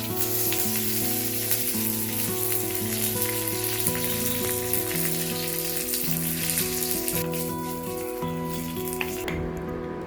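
Loud, continuous sizzling of curry leaves frying in hot oil with popped mustard seeds, close up, with soft background music playing underneath.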